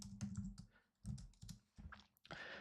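Bursts of rapid key clicks on a computer keyboard, a held delete key among them, come in several short clusters separated by brief pauses, close and fairly quiet.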